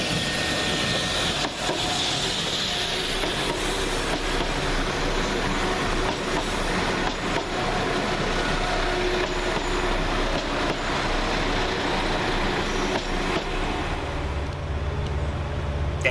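West Midlands Railway class 172 diesel units 172222 and 172214 rumble through Stourbridge Junction station, a loud sustained engine and wheel roar that settles into a low idling hum near the end.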